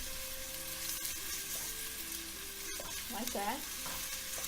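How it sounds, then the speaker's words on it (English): Onion sautéing in a pan makes a continuous sizzle with stirring scrapes and a couple of clicks, while a voice briefly speaks near the end. "put the onion in first. And I'm going to give it a little saute."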